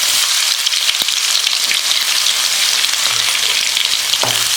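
Crushed garlic with mustard seeds, cinnamon, cloves and fennel sautéing in hot oil in a kadai: a loud, dense, unbroken sizzle with faint stirring scrapes beneath it.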